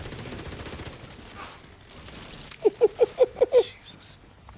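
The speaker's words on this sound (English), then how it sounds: "Oh, we got a minigun or something up there." Rapid gunfire in the Destiny 2 video game, said to come from a minigun: a short burst of about six evenly spaced sharp shots near the end, over quieter game background noise.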